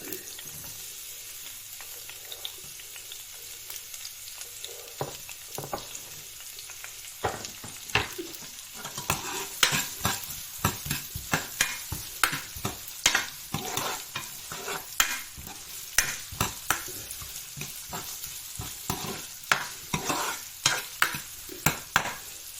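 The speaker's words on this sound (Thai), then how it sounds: "โอเคจ้าเราก็จะมาเริ่มผัด" Glass noodles are stir-fried in a well-used wok, with a spatula scraping and clanking in quick repeated strokes over a steady close sizzle, growing busier as it goes.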